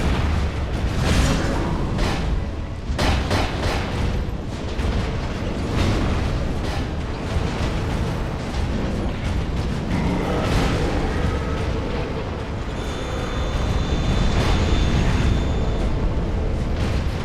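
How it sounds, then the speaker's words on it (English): An explosion in the video game Dark Souls 2 sets off a long, loud, rumbling roar of blasts and booms that continues without a break. "Explosion."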